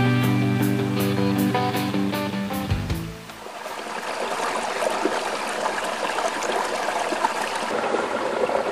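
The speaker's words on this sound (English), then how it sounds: "I'm in a deep ravine, and I found a great source of water here" A water stream runs through a deep ravine, a steady close rushing trickle that settles in after a few seconds of louder tonal sound, then continues evenly on its own.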